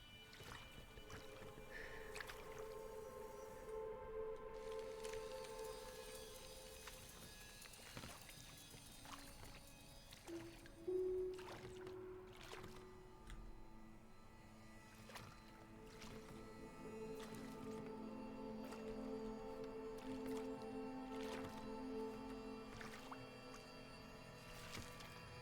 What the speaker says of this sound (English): My paddling skills still need some work here